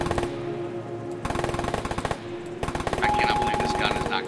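Automatic gunfire in the Arma 3 Wasteland game, several sustained bursts of rapid shots at close range over a steady hum, with other game sounds rising toward the end.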